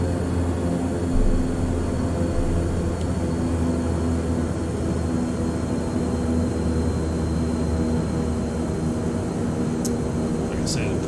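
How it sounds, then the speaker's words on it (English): A Beechcraft King Air turboprop taxis toward the runway with a steady, loud engine drone and hum throughout. "we got a short taxi over here to runway 330 this evening"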